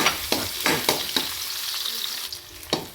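Onion added to hot oil with ginger already browned in it, frying with a loud close sizzle and repeated scraping stir strokes, with no talk over it.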